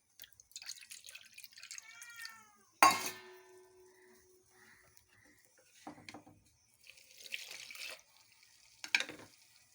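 Water poured into a bowl of flour for mixing in a home kitchen gives a few soft splashing bursts, with a sharp clink of utensils against dishes and some faint drips between.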